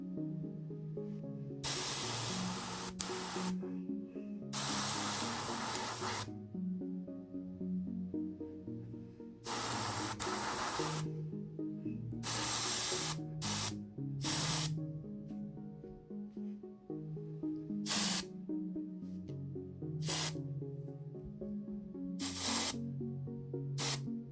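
An airbrush or spray can lays a light coat of purple paint over bronze Star Wars Legion Droideka miniatures in repeated hissing bursts of one to several seconds, separated by pauses, close and fairly loud.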